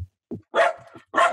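A dog barks several times at close range in a home setting, a short sharp yelp followed by two louder, fuller barks separated by brief pauses.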